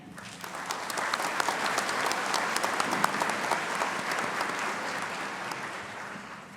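A commencement audience claps steadily for several seconds, a dense, even wash of applause from a large crowd with no voices on top.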